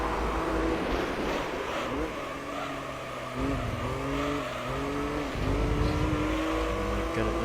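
Race car engine in Gran Turismo 3 revving hard and over-revving on gear shifts, a loud rising whine that drops and climbs again with each shift, with a voice talking over it.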